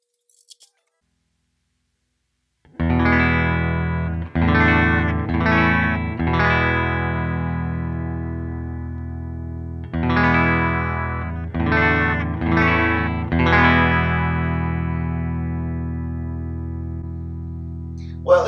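An electric guitar plays chords through a Pod Go multi-effects unit, with a slightly distorted, chorus-like shimmer. Strummed chords ring out in separate bursts, loud and close, with no voices.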